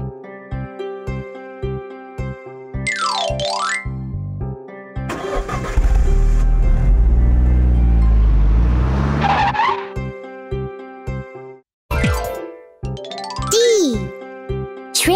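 A cartoon car roars past with a revving engine and squealing tires over a bouncy children's music track, the engine noise swelling loud for several seconds amid playful whistle-like sound effects.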